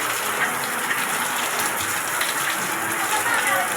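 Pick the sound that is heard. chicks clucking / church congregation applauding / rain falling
rain falling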